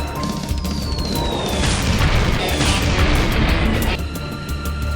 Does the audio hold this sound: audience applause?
no